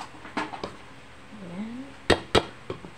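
Egg, chili and garlic are mixed in a bowl for a tawilis fish omelette, a few sharp clinks of a utensil against the bowl with a soft scraping stir between them.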